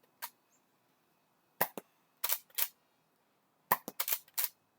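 A Nerf N Series Pinpoint blaster fires in a sequence of sharp, snappy pops. A single shot comes first, then a pair, then a quick cluster of several close together, all near and crisp against near silence.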